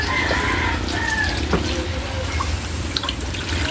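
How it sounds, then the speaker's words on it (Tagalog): Water runs steadily into a cooking pan for sardine noodles, a continuous close splashing pour with a few faint clinks, filling the whole stretch with no speech over it. "lagyan natin ng tubig"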